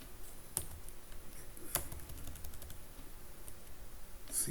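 Quiet keystrokes patter on a computer keyboard as code is typed, with a few sharper clicks standing out. The tapping is close and steady, and no one speaks over it.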